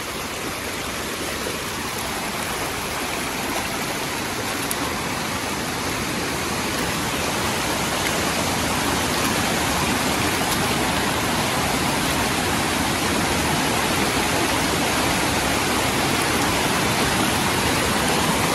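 Steady, full rushing of a forest stream where the water has spilled over and flooded the footpath, a constant broadband wash that swells slightly louder over time with no voices.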